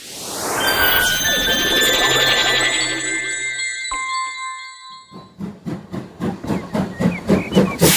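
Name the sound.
train steam hiss sound effect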